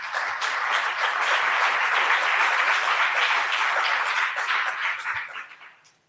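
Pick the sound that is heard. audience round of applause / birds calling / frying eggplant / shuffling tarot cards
audience round of applause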